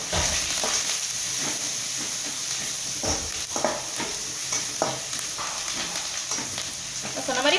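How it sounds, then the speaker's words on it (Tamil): Onions sautéing in a pan: a steady, close sizzle and hiss runs throughout, with scraping stirs of the spatula at intervals and a voice speaking faintly over it. "இது வெங்காயம் வந்து நல்லா வணங்கி வரணும்."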